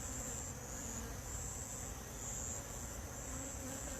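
Honey bees hum steadily at a hive, a dense, continuous buzz close by with no talking over it.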